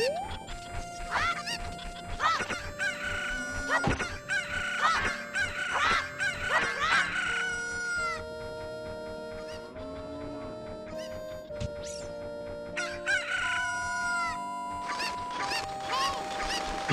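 Cuccos from Ocarina of Time, a flurry of loud squawking, honking bird calls mixed with game sound effects and struck hits, busy and continuous throughout with no speech.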